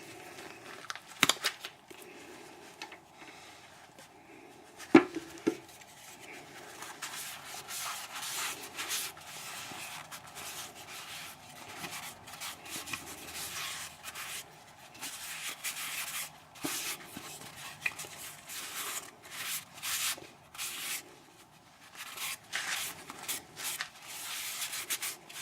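Soft, steady rubbing of a cloth applying walnut oil over a madrone wood natural-edge bowl, a close, low-level friction texture with a few sharper knocks near the start.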